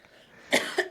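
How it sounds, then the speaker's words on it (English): One short, sharp cough, close and clear, following a moment of quiet. "I got one more cough"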